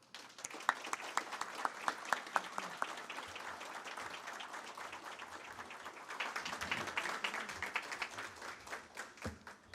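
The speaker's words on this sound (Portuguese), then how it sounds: "dar-lhe uma salva de palmas" Sustained applause fills a formal solemn council session, dense steady clapping from a seated audience lasting throughout, with a few sharper individual claps standing out near the start and end.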